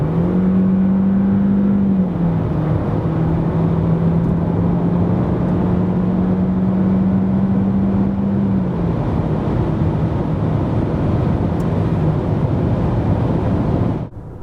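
A 2023 Renault Austral with a 1.3 petrol engine accelerating from 90 to 140 km/h, its engine drone climbing and shifting under heavy road and wind roar heard from inside the cabin.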